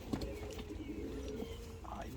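Feather-footed pigeons from Kayseri coo softly at close range, low throaty murmurs running through the background with faint chirps, quiet overall, with a voice partly audible.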